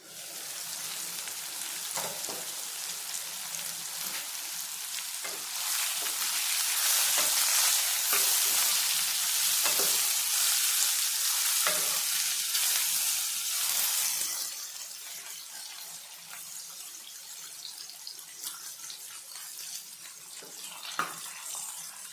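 Ridge gourd cooking in a covered pan gives a steady, loud sizzle and hiss that swells for several seconds, then settles lower, with a few faint clinks and stirring sounds. No one speaks.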